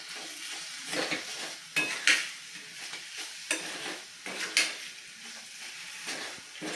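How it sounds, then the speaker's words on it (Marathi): Mashed potato sheera is stirred in a pan with a spoon, making repeated close scraping and swishing strokes in an uneven rhythm with a faint sizzle underneath. "आता सतत ढवळत"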